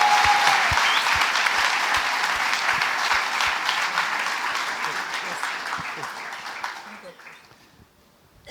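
Welcoming applause from an audience at a French-language church gathering: dense, steady clapping that fades gradually toward the end.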